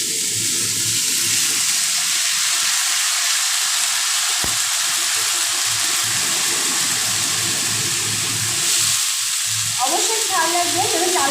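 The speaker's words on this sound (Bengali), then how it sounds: "তা আমি চাল কুমড়োটা এবার কড়াইয়ের মধ্যে দিয়ে দিচ্ছি" Thinly sliced ash gourd frying in a little oil in a wok, a loud, steady close sizzle, with faint clatter and a short burst of stirring near the end.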